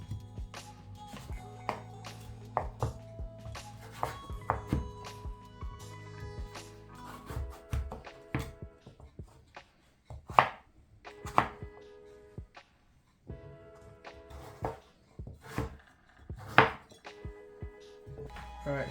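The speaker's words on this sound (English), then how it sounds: "the pumpkins are cut into small cubes" Knife chopping pumpkin into small cubes for a Sri Lankan-style pumpkin curry, a run of irregular, close thunks and taps on a cutting board, with short pauses between bursts.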